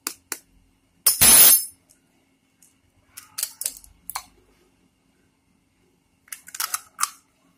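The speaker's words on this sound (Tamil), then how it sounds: "அதே மாதிரி ரெண்டாவது முட்டையும் எடுத்து உடச்சி ஊற்றிடுறோம்." A second egg is cracked and poured for a vegetable omelette: a short crisp crunch of shell, then scattered light taps and clinks against a bowl, with no talk.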